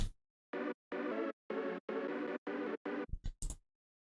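Pitched-down detuned lead chord layers for a hardstyle lead in FL Studio, heard as six loud, sustained chord stabs in a steady rhythm, then a few short choppy hits at the end.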